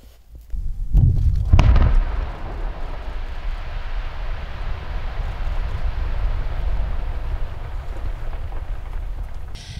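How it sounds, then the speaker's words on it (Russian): A controlled demolition charge blasts river ice on a river in the village of Maltseva Kurya near Biysk, one heavy booming explosion followed by a long, steady rumble and roar that fades slowly. "Вот так красиво и эпично прогремел взрыв."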